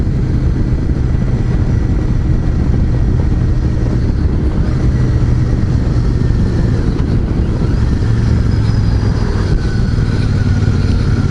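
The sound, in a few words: Royal Enfield Super Meteor 650 motorcycle riding, shifting gears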